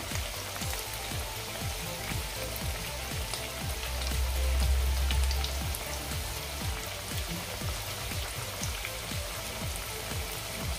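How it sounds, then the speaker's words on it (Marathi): Sabudana french fries deep-frying in hot oil until golden brown, a steady dense sizzle and crackle with a constant bubbling roar, close and loud throughout, with no talking. "याचा रंग चेंज होईपर्यंत म्हणजे गोल्डन ब्राऊन होईपर्यंत आपण हे फ्राय करून घेणार आहोत."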